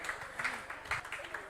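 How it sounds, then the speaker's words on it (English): An audience at a youth business summit applauds a speaker, a short burst of moderate clapping with some crowd voices mixed in. "A round of applause for him"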